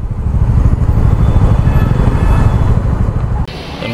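Dense road traffic in a jam, heard from a motorbike on a Mumbai ride: a steady low rumble of idling engines and revving close by, continuous and loud, easing slightly near the end.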